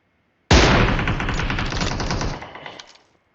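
Sustained automatic gunfire from PUBG Mobile, a loud, dense burst of rapid shots lasting about two seconds before trailing off into a fading rattle.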